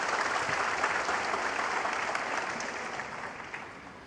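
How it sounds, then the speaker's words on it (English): A snooker crowd at a Shanghai Masters semifinal applauds a frame ball with steady, dense clapping that holds for several seconds and slowly fades. "Applause for frame ball."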